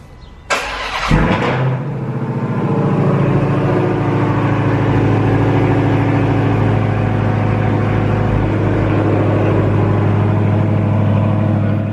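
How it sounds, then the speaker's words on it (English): A widebody Dodge Charger Hellcat fires up from cold: a starter whir, a sharp loud catch, then a deep, steady, rumbling idle close by that holds to the end. "let me give you a cold start on an actual car that does exist, which is my wide-body Hellcat right behind me."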